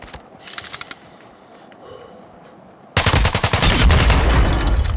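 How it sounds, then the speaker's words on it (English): Video game gunfire: faint distant bursts of shots, then a sudden loud, rapid machine-gun volley close by that keeps rattling to the end. "Taking effective fire!"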